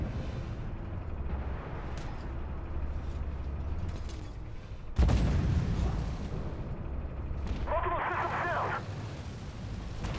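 A K1A1 tank firing its main cannon in the game Armored Warfare, a single sudden heavy boom at mid-clip over a steady mechanical engine and track creak, followed by a brief rattling reload sound.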